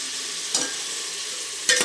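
Tomatoes frying in a pan while cooking pulao, a steady soft sizzle with two brief louder stirring scrapes, close and alone without talk.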